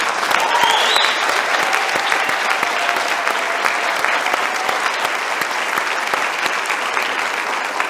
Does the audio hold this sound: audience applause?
yes